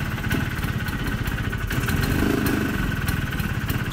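A Vespa scooter engine runs steadily close by, a continuous low putter with slight rises in revs, as people talk quietly near it.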